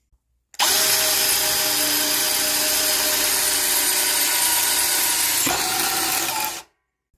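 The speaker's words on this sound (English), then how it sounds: "Now we should be able to drill this as fast as we want without breaking this bit." Power drill spinning a hole saw through metal sheet with a washer fitted on the bit, a loud continuous high-pitched whir held for about six seconds, with a brief jolt near the end before it stops abruptly.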